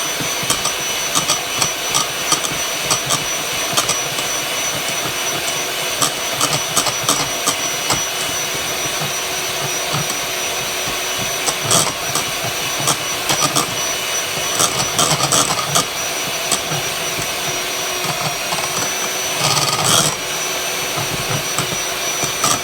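An electric mixer beats egg yolks into stiffened egg whites for chiles rellenos batter, a loud, steady whirring drone with small rattles as the beaters hit the bowl, running continuously without talk.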